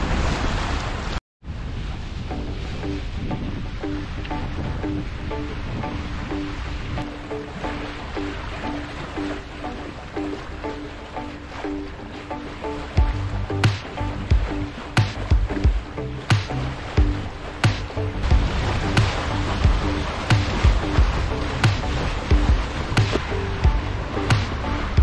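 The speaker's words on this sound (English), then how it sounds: "we're just going to motor our way back in" Sailboat with its sail pulled in motoring back across a choppy bay, a steady broadband rush of wind and waves with an engine drone coming up partway through and rhythmic slaps of water against the hull.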